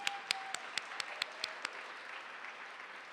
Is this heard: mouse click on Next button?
no